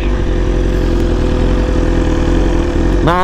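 A BMW big bike motorcycle engine idles steadily and loudly up close, a continuous low rumble throughout, with a brief rev or whine rising near the end.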